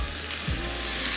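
Onion sizzles as it sautés in a pan, a brief steady close frying hiss with a low hum beneath and a single soft thump midway.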